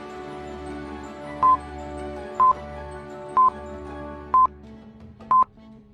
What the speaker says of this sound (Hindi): पूरी रिंगटोन जाने के बाद भी आलिया कॉल रिसीव नहीं करती है।